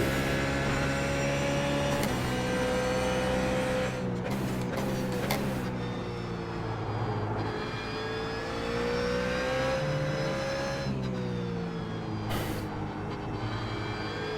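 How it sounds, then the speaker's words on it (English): A BMW Z4 GT3 race car engine in the iRacing video game roars continuously at Sebring International Raceway, revving up and dropping with gear shifts, loud and close throughout. "Yeah, the Beamer sounds awesome."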